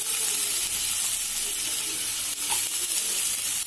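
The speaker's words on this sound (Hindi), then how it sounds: "अब हम ऑनियन को हम गोल्डन ब्राउन करके फ्राई करेंगे" Chopped onions fry with cumin seeds in a pan, producing a constant moderate sizzle and hiss with no voices.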